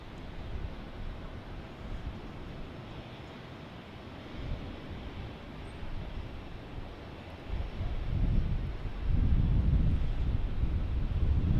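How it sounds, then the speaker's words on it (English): Steady wind buffeting a microphone outdoors at Dallas Love Field airport on a moist, cloudy day, a broad constant rush that swells louder in the last few seconds, with no voices. "It is moist, windy, and cloudy here in DFW in Dallas Love Field."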